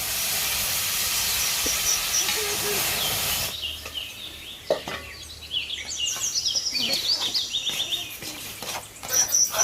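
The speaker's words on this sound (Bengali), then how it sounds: "এখন আগে থেকে তৈরি করা শিরাটা আমি অর্ধেকটা আগে ঢেলে দিচ্ছি" Prepared sugar syrup is poured into fried semolina and flour for Sylheti halua: a loud, steady steam hiss gives way to rapid, close crackling and sputtering that rises in irregular bursts.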